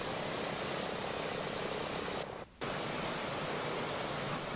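Boeing B-17 radial aircraft engine running steadily, a loud broad droning roar close by that holds constant except for a brief dip midway.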